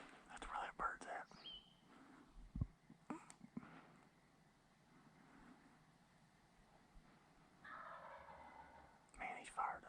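Wild turkey gobbles on Kentucky public land in spring, a few loud rattling gobble bursts near the start and end with quieter stretches between, while a hunter whispers softly.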